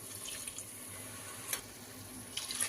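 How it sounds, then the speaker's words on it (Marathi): Water poured into a pot of kolam rice, a faint steady splashing stream with a few small drips and clinks, quiet and unaccompanied by talk. "2 वाटी तांदूळ घेतले आणि 4 वाटी पाणी टाकायचे"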